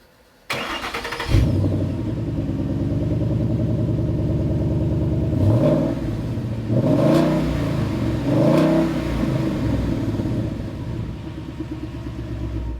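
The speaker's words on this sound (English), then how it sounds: "It's not bad, but it's a stock exhaust" A 2013-2014 Mustang with stock exhaust idles with a deep rumble, then revs sharply three times in quick succession, loud and close, settling back to idle between bursts.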